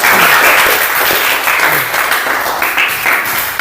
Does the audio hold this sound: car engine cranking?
no